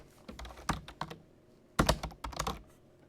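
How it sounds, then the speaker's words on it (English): Fingers tap out a short search on a computer keyboard in two quick bursts of clicking keys, close and crisp, separated by a brief pause, with no talking. "just type Ohio adoption."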